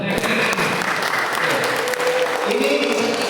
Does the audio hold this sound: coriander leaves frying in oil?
no